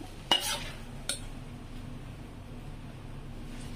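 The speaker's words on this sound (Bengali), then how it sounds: "যে সাবু আগে থেকে ভিজিয়ে জল ঝরিয়ে রাখা হয়েছিল সেটা এর মধ্যে দিয়ে হালকা করে ভেজে নিতে হবে" Soaked and drained sago lightly fried in a little ghee, cooking for sago payesh; two sharp spoon scrapes against the pan near the start, then a faint steady sizzle continues alone.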